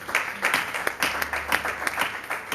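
A church congregation at morning prayer breaks into brisk, fairly close applause, rapid claps running steadily throughout the short stretch with no clear talk over it.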